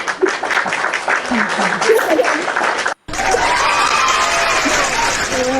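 Audience applause breaks out in a dense wash of clapping mixed with chuckles and voices, cut briefly by a short gap before the clapping and crowd noise resume.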